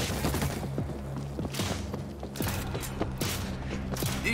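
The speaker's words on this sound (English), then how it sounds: "Mortar, ready to fire." Mortar fire and mechanical weapon clatter in the World War Z zombie shooter video game, a rhythmic series of sharp thumps and metallic clanks repeating steadily at close range.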